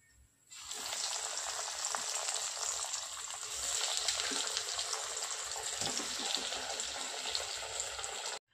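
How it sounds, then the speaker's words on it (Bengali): Shrimp cutlets frying in hot oil, a steady bright sizzle that starts abruptly and continues evenly, close by, with no talking. "বাকিগুলো ভেজে নেব।"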